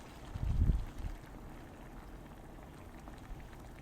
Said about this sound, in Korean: 어느 정도 볶아주셨으면 물 4컵을 넣어주세요.